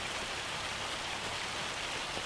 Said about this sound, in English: Gonna get some crop destruction due to the rain here.